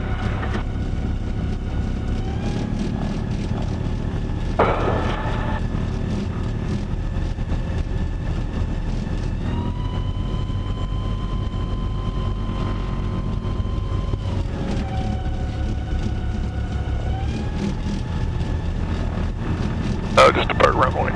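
A light airplane taxis out toward the runway, its engine droning steadily up close with shifting pitch as power changes, and a voice talks over the engine noise.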